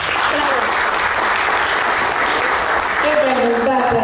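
An audience gives a literary gathering's guest writer Koyu Itai a sustained, even wash of applause, with some talk surfacing beneath it toward the end.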